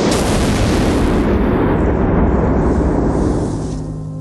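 One loud, booming rifle shot from a Browning X-Bolt chambered in 6.8 Western and fitted with a muzzle brake, fired outdoors in snowy Saskatchewan. The blast hits hard and rolls off in a long fading echo.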